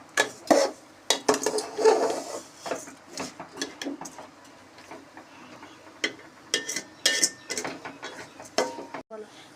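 Rice being fried and stirred in a pot for pulao, with repeated scraping and clinking of a utensil against the pot in an uneven rhythm, close and fairly clear, with little else around it.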